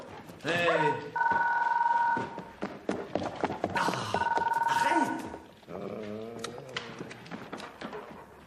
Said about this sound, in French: Et quelqu'un qui peut répondre au téléphone?